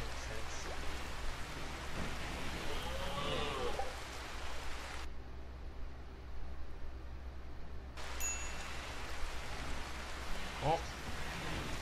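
Rain falling in the video game RimWorld gives a continuous hissing wash with a low rumble, briefly thinning for a few seconds midway before resuming at the same level; faint voices occasionally surface underneath.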